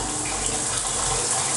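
Shower water runs in a steady, loud, dense hiss with no break and no voices.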